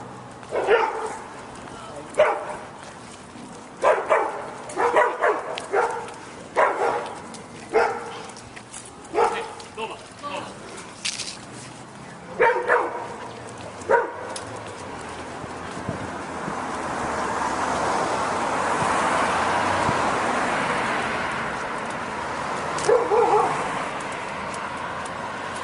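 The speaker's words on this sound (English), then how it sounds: "There's a couple dogs down the street as well, so we'll capture them, a couple shepherds." A couple of shepherd dogs down a street barking in a run of sharp, repeated barks at a distance, then dropping away under wind noise and talking.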